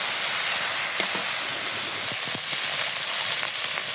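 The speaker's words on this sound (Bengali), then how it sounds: "মশলাটা এখন ভালোভাবে কষিয়ে নিব" Spice paste with salt and turmeric being sautéed in a pan for a village-style koi fish curry, a loud continuous hiss and sizzle close by with faint stirring taps.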